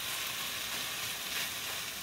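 Beef bulgogi stir-fried vigorously in a pan gives a steady, loud sizzle and crackle of frying meat that runs unbroken, close up, with no talking.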